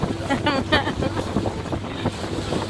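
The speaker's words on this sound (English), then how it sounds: "The boat ride was invigorating." Wind buffets the microphone on a moving boat on a river in the Amazon, with rushing water and engine rumble underneath and a few indistinct voices shouting over the noise.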